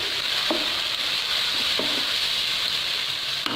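Ground tomato puree poured onto fried garlic paste in a hot pan, a constant loud sizzle with a few soft stirring knocks and no talking.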